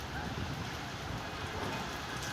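Heavy rain pouring during a storm in Dhaka, a dense, steady roar of falling water with wind, close and unbroken for the whole short stretch.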